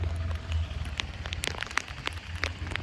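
Heavy monsoon rain pours over flooded Junagadh streets and farmland, a dense, steady hiss with scattered sharp drops and splashes close by, joined by a low rumble.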